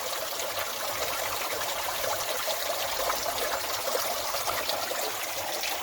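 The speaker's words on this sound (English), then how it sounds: "It's the drinking water coming out of the earth." Water trickles steadily out of the earth at Annagh's well, a continuous, even, hissing flow heard on its own without any speech.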